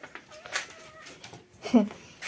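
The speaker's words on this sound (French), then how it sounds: "Il miaule" A small, high meow sounds near the end, preceded by quiet rustling and a faint voice in the background.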